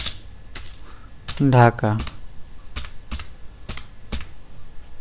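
Keys tapped on a computer keyboard while an address is entered, a handful of separate crisp clicks spaced out over a few seconds, with a brief spoken word in the middle.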